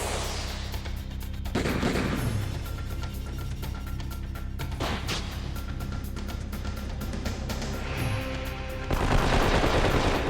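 Gatling gun attack in the Wild ARMs 3 video game, a sustained rapid rattle of shots with booming impacts, ending in a louder burst of fire.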